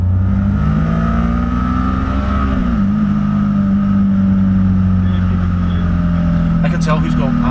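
Motorbike engines roar past close by, a loud sustained drone whose pitch shifts and dips partway through, with voices talking over it.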